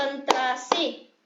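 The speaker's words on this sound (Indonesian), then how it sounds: "Oke, kita tepuk konsentrasi dulu." Two sharp hand claps at a classroom concentration clap game, spaced apart over sustained children's voices chanting, moderately close.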